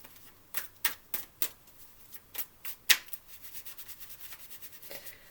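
A deck of tarot cards being shuffled by hand up close: a run of quick, crisp riffling snaps and soft slides in uneven bursts, with no talking.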